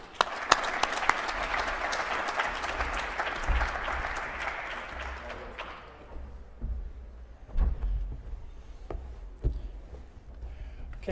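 A seated audience at a university lecture in Calgary gives dense, steady applause that fades out after about six seconds, leaving a few scattered claps and thumps in a quiet room.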